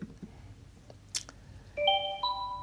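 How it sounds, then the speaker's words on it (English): Short two-part chime of an app notification from DoulaOne CRM, a stepped rising tonal alert at moderate level after a few faint clicks, heard alone without speech. "You get a notification."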